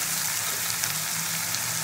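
Onion paste frying in hot oil, a steady close sizzle and crackle that runs unbroken throughout with no voices.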